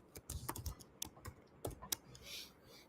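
Code being typed on a computer keyboard, a quick close run of clicking keystrokes in uneven bursts that ends in a short pause, quiet and alone.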